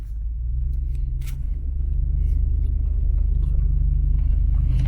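A Lexus LX470 crawls off-road in 4 low with locked differentials, its engine giving a steady, loud low rumble that builds slightly and holds throughout, with faint creaks and clatters from the vehicle over the terrain.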